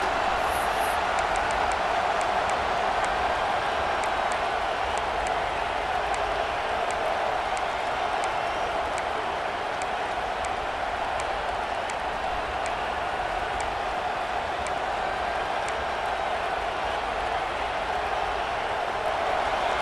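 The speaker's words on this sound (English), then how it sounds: "this big crowd doing everything possible to inspire this defense down here near the goal line" A big stadium crowd in the EA Sports College Football 26 video game cheers as the defense holds near the goal line: a continuous, dense roar of crowd noise at a steady level throughout, with no talk.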